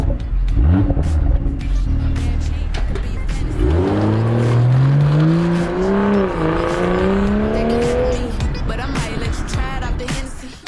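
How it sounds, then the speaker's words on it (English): A BMW M240i engine revs and pulls through the gears, its rising exhaust note loud and close, climbing in pitch twice before easing off. "I'm going to soak up this scintillating exhaust note"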